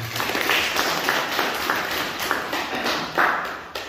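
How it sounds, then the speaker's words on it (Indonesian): Audience clapping at a coffee cupping class celebrating Gayo coffee, a steady wash of many hands with a few sharper taps, fairly close and continuous. "Tepuk tangan untuk pencipta mantra."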